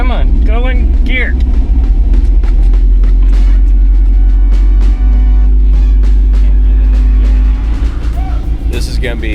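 A cheap used off-road vehicle's engine idles loud and steady up close with a deep low rumble, while someone tries to shift it into gear. Several grinding and clunking sounds come through along with a voice.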